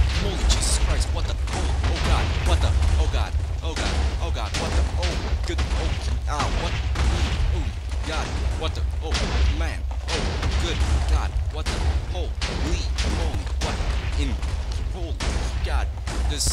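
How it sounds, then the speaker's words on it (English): Dense, continuous barrage of explosions and gunfire-like blasts in a Minecraft custom map, loud throughout, with a voice talking over the chaos. "there's so many explosions going on"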